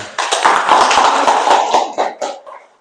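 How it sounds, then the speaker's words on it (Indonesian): A classroom group claps loudly and densely for about two seconds, then the applause trails off into a few last claps. "Oke, baik, tepuk tangan"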